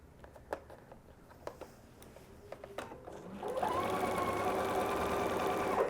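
A sewing machine stitching a seam around a circle on a bodice lining, with a few faint handling clicks first, then a steady close mechanical whir that runs continuously to the end.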